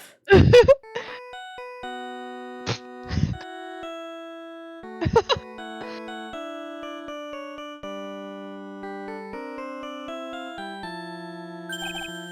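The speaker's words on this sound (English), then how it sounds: "What kind of ringtone is that?" A phone ringtone plays a melodic theme song in electronic tones, a clear sustained tune of chiming notes punctuated by a few brief louder bursts.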